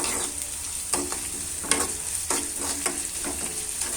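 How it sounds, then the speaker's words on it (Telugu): Fish eggs frying with onions, green chillies, curry leaves and ginger-garlic paste on a village stove, a continuous close sizzle broken by repeated scraping stirs every half second or so. "చేపగుడ్డుని ఇలా ఆనియన్స్, పచ్చిమిర్చి, కరివేపాకు వేసుకుని అలాగే కొంచెం అల్లం వెల్లుల్లి పేస్ట్ కూడా వేసుకుని బాగా వేయించుకోవాలి."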